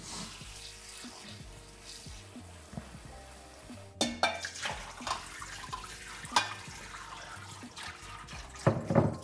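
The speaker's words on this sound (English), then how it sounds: "We're just actually gonna rinse this under the cold water to stop it cooking." Cold tap water runs over broccoli being rinsed in a kitchen sink, a steady close stream with splashes and clattering as the florets are moved about, growing busier partway through.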